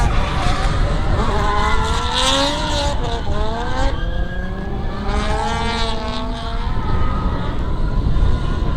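A drift race car in a top 32 battle at Meremere drifts on the straight, its engine howling loudly and steadily with rising and falling revs and tire noise, and a commentator speaking faintly underneath.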